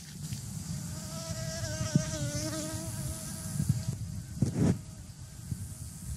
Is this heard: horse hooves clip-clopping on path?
no